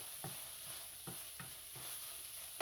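Ground hamburger meat sizzles and fries in a pot while being stirred to cook off its juices for goulash, with a steady frying hiss broken by about six spaced scraping stirs.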